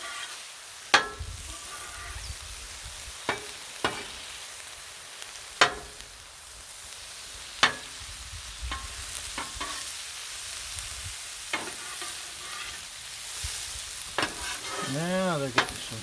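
Mushrooms sizzling in butter on a flat-top griddle while cheesesteak sandwiches are made, a steady soft hiss punctuated by sharp metallic spatula clicks and scrapes, with a brief bleating-like squeal near the end.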